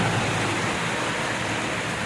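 Heavy rain falling steadily outdoors in a village during the monsoon, a dense continuous hiss with no breaks and no talking.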